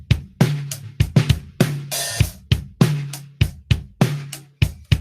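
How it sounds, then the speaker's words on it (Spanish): A solo drum kit played alone in a room with artificial reverb: punchy kick thumps and sharp snare and cymbal hits land in a steady, driving groove, loud and close with no other instruments. "Pero la batería sola, pues suena así."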